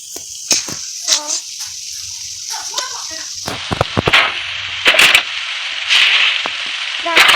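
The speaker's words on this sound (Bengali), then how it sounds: "এই যে আমি এটা পনির চিজ এখন আমার রান্না করবো।" Paneer cheese frying in a pan gives a bright, steady sizzle with sharp clatters and spatula knocks. A voice can be heard briefly over it.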